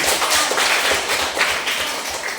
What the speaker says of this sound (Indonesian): Luar biasa, kita tepuk tangan.